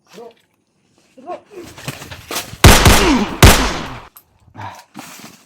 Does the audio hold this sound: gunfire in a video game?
yes